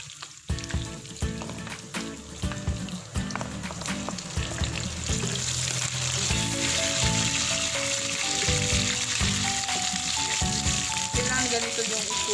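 Ingredients sautéing in hot oil in a pan for Filipino ginisang monggo, with pork rendering its fat, a loud close sizzle with stirring scrapes that builds and holds steady, while a person talks over it.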